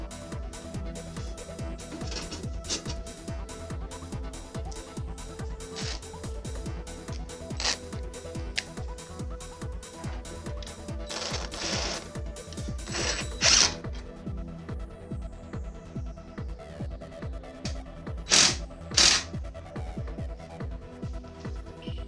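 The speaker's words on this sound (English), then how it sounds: "Let's go ahead and we'll screw it into the top part here." A part is screwed into a top piece, heard as a long run of close, rapid ratcheting clicks from a driver, with a few louder sharp taps and clatters toward the end.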